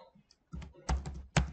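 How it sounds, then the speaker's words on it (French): The tab key and other keys are pressed on a computer keyboard: three or four quiet, close plastic clicks spaced unevenly over a second and a half. "je clique sur la touche tabulation du clavier"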